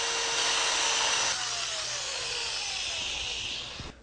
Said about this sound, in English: Sand the bottom and sides of the bowl to remove any machining marks left behind by the router bit.